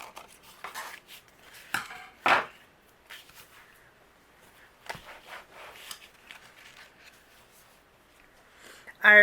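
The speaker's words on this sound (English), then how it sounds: "I'm going to go ahead and trim away the excess here" Scissors trimming away excess paper from a handmade Independence Day card, a few soft dry snips and rustles spread across a quiet stretch, close and faint.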